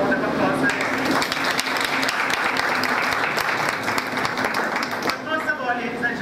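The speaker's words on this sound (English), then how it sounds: "And a round of applause for them." A dense, steady round of applause fills a formal ceremony announcing Jamaica's Poet Laureate, loud and continuous from start to finish with some voices mixed in.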